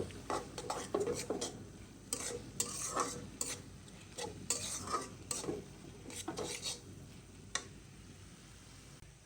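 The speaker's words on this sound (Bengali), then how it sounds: "এই লাল শাকটা কিন্তু অলরেডি পানি শুকাই গেছে শীতও হয়ে গেছে এখন ভাজা ভাজা করে দেবো" Red amaranth leaves are stir-fried in a pan, a soft sizzle under repeated scraping and clinking of a spatula against the metal in uneven bursts, fairly quiet and close.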